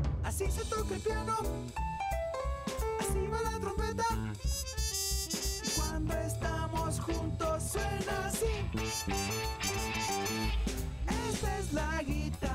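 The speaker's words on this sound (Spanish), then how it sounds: "Así se toca el piano." Piano playing in a children's music segment, carrying a melodic line inside a busy full-band arrangement that stays continuous and fairly loud throughout.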